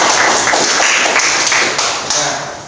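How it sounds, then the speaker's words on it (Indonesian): A classroom gives a quick round of hand clapping, a dense patter of claps from a group close by that fades slightly toward the end. "Oke, tepuk tangan untuk Raja."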